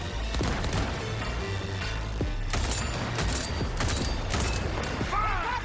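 Rapid gunfire from a precision rifle, assault rifle and shotgun in Helldivers 2, loud dense bursts of shots with impacts and crashes filling the whole stretch, with a voice faintly in the mix.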